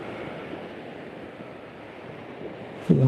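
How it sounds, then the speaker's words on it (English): Surf washing onto the shore at Largs, Scotland, a steady low rolling wash with some wind buffeting the microphone and a brief louder bump near the end. "I'm hoping you can hear the sea."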